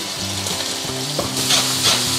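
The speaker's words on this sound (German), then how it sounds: "So, jetzt brutzelt es doch schon." Sliced leek sizzles in a hot pan with frying bacon, added without extra fat, giving a steady loud crackle with a few brief stirring bursts and no talking.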